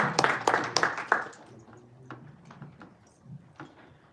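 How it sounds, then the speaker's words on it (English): A small audience at a Toastmasters club meeting gives a short burst of close handclaps that quickly thins out into a few scattered, fading claps. "A big round of applause for Toastmaster Amina Salma."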